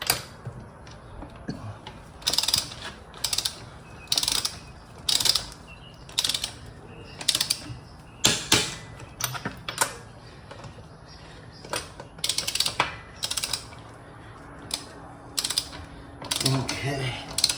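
Torque wrench on a 2015 Mazda CX-5, tightening wheel lug nuts in a star pattern. Close ratcheting clicks come in repeated short bursts with brief pauses between nuts, and there is no talk.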